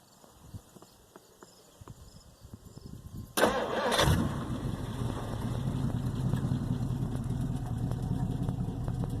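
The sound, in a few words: 1958 car engine starting and idling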